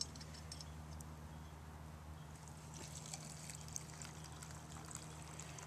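Hot water from a kettle poured over rose hips and pine needles to make tea, a steady soft trickle running the whole time over a low background hum.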